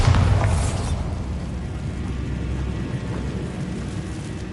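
A Bombarda blasting spell goes off in Hogwarts Legacy on PS5 as a deep, rumbling boom that hits loudly at the start, then decays into a sustained low roar.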